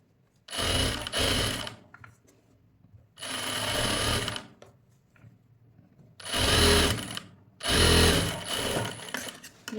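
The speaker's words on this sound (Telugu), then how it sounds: "ముందుగా నేను ఈ పార్ట్కి ఒక దూరం స్టిచ్ వేసుకుంటున్నాను" A sewing machine stitches blouse fabric in four bursts of steady whirring, each lasting about a second or two, separated by short quiet pauses, close and clear.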